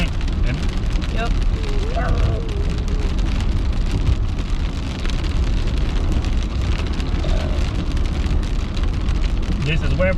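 Steady rain falls on a car while driving, recorded by a GoPro Hero 8 Black dash cam, a dense constant patter over low road rumble, close and loud throughout.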